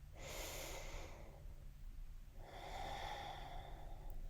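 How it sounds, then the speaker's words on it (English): A deep breath during a yoga session, with a slow audible inhale through the nose, a pause, then a long exhale, close and quiet. "Taking a deep breath here."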